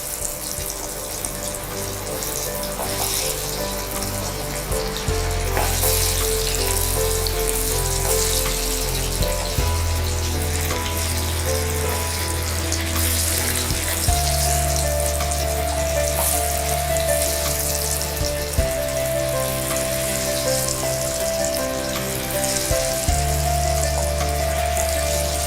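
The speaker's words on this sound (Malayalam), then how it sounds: "എണ്ണ നല്ല ചൂടായി കിടക്കുമായിരുന്നു, അതുകൊണ്ടാണ് നന്നായിട്ട് ഇങ്ങനെ ബബിൾ ചെയ്ത് വരുന്നത്." Jackfruit seeds deep-frying in very hot coconut oil, a steady bubbling hiss that runs continuously throughout, with tonal background music playing over it.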